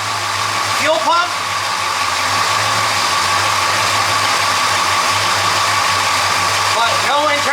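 A car engine idles with a steady drone and a low, persistent rattle-like knock from a faulty fuel pump, continuous and fairly loud, with brief higher warbling sounds near the start and end.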